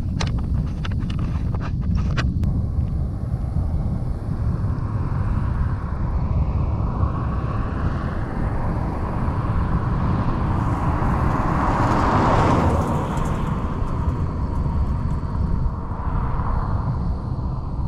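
Severe windstorm gusts roar continuously against the microphone, a dense broadband buffeting with a louder surge partway through, no voices.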